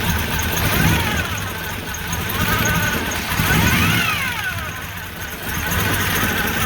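A Chevrolet Monte Carlo engine running and revving after a spark plug fix: a steady mid-pitched motor hum with rising and falling rev sweeps and a faint squeal, loud and close.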